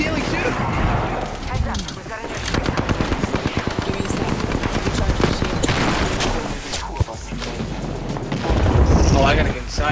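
Dense, sustained automatic gunfire in the Apex Legends battle royale game, rapid bursts layered with heavier booms and weapon clatter, loud and continuous throughout, with voices talking over the shooting.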